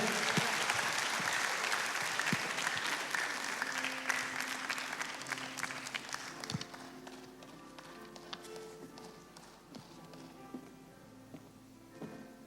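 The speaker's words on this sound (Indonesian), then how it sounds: "Tepuk tangannya yang meriah." A church congregation breaks into loud applause that swells at first, then thins to scattered claps and fades over several seconds, with faint organ or keyboard tones underneath.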